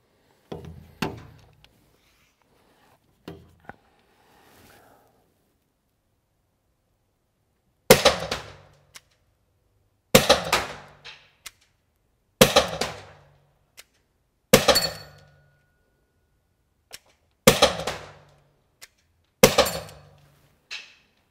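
Umarex HDR 50 T4E defense revolver firing at full CO2 power, six sharp loud cracks spaced about two seconds apart, preceded by faint handling clicks and brief talk.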